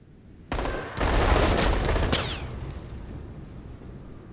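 Gunfire in the game Menace: a sudden loud burst of shots with a heavy boom and crackle, tailing off into a rumbling decay over a few seconds, snowy battlefield setting.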